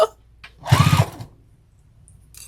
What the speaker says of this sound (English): Sew down that side seam